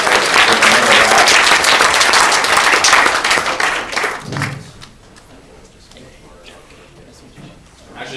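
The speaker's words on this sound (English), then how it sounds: "let's give them a big round of applause." An audience at a Mobile Monday tech meetup bursts into dense, loud clapping that holds for several seconds and then fades out, leaving a quiet room with a few stray taps.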